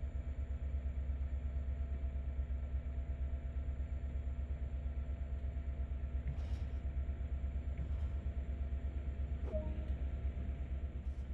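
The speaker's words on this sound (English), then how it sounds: "With the train now moving" A train moving along the Peninsula Corridor in the video game Train Sim World 2020, with a steady low engine and rail rumble running throughout, a faint high tone above it and a few light clicks and squeaks.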